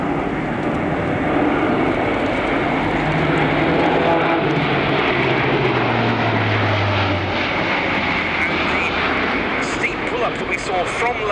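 Airbus A400M military transport aircraft in a flying display at an air show, its turboprop engines producing a loud, sustained drone with a slowly sliding pitch as it passes, heard alongside a commentator talking.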